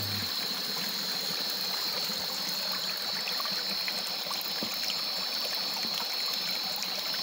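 A hillside stream flows with a steady, even rush of water and fine trickling detail, continuous and close throughout.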